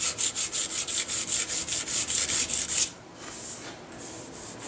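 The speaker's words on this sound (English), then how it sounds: "that's all there is to draw filing" Draw filing a gun barrel with a hand file, a run of steady, regular rasping strokes close to the microphone that stops after a few seconds, followed by softer scraping.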